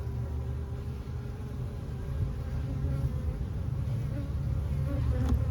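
Steady, dense buzzing of many honey bees close by, a continuous low hum filling the whole stretch without pause.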